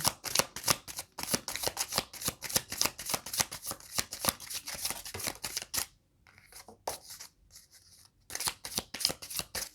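Tarot cards are shuffled in brisk, rapid riffling bursts that play up close, then pause and give way to softer handling as cards are drawn, and shuffling resumes toward the end.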